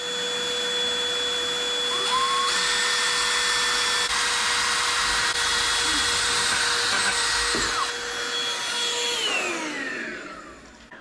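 A power drill bores a hole with a loud, steady, high whine that holds for several seconds, shifts pitch briefly, then spins down at the end; no one talks.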